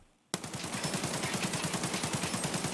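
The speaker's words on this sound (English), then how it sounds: "this is a pretty fucking good AK" AK rifle fire from a video game: after a brief quiet moment, a rapid, loud, sustained automatic burst of evenly spaced shots runs to the end.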